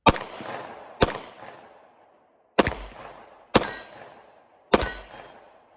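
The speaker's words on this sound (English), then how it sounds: "First few shots were super low." Five sharp, loud gunshots from a Sig P365XL pistol fired at targets, each a crisp crack with a ringing decay, irregularly spaced with a longer pause in the middle.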